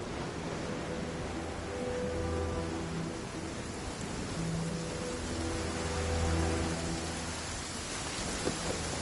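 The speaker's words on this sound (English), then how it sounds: "It's raining again? Oh, this isn't good." Rain falling in the Genshin Impact video game, a steady soft hiss of rainfall with faint tonal game music underneath, continuous and moderately quiet, no talking.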